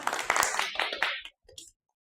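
A short burst of children clapping for a classmate in a classroom, about a second of quick claps, then a few scattered claps, fairly faint.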